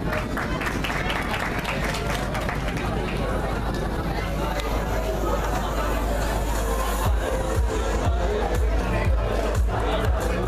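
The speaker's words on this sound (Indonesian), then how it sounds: "Beri tepuk tangan yang meriah." A large school performing-arts audience applauds and cheers continuously, a dense, steady roar of clapping and voices that swells slightly toward the end.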